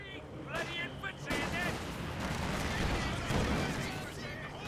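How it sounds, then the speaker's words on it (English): Company of Heroes battle with dense, overlapping bursts of gunfire from an MG34 machine gun and light vehicles, plus booming impacts, under excited commentary. "Oh, here we do have the Volkswagens firing away. MG34 hitting the conscripts."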